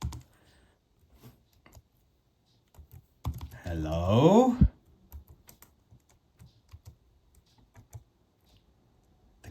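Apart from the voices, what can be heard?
typing on Pocket 386 keyboard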